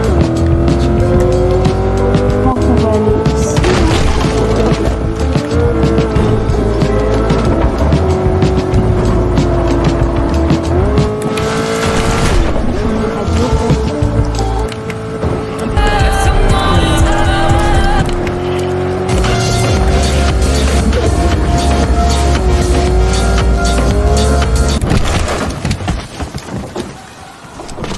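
A car drives in Fortnite, its engine droning loudly and steadily with shifting pitch, tire squeals and crashes as it hits objects, while someone talks briefly in French.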